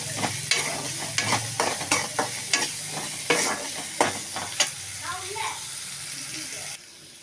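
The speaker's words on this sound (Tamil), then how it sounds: "பாருங்கள், நல்லா எண்ணெயை விட்டு வதக்கிக்கிடணும். நல்லெண்ணெய் தான் விடணும்." Pirandai (adamant creeper) sautéing in sesame oil in a pan, with a steady sizzle and a series of rhythmic spatula scrapes and taps, close up. The sizzle fades near the end.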